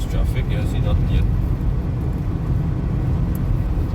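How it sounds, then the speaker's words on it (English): Steady broadband rumble of road traffic with cars driving, heard from inside a moving vehicle, continuous and fairly loud with some voice-like traces early on. "look at this traffic we're going into"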